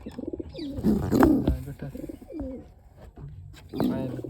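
Domestic pigeons kept for pigeon flying coo close by in a coop, giving several low, rolling coos spaced a second or two apart.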